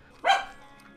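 A dog gives a single short, sharp bark nearby at an outdoor chicken-smoking cookout, a loud close yip that fades quickly, with no talking over it.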